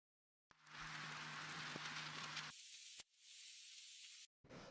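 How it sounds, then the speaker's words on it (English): Vinyl crackle and hiss used as a background layer in a chill bass music production, a soft, noisy wash that plays in separate stretches broken by short silences. "They're just kind of like some background noises,"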